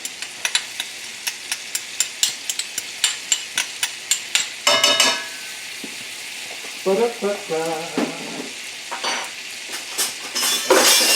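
Garlic and rosemary hitting the hot lamb pan with its browned bits, a run of sharp clinks from a utensil giving way to a loud, close sizzle that swells in bursts as the pan is stirred.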